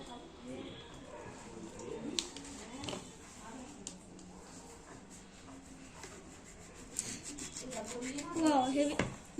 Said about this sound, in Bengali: তাই ড্রাগন ফ্রুটটা কাটছি